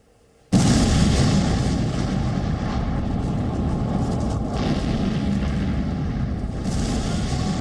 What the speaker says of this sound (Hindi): दिल दहला देने वाले बम धमाके यूक्रेन के शहर शहर सुनाई दे रहे हैं।